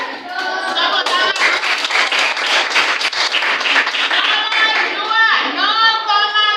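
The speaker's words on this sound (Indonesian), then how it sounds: "Tepuk tangan." Classroom applause breaks out for a pupil's correct answer on a fractions question, a dense, steady patter of many hands clapping for several seconds, with children's voices calling out over and through it.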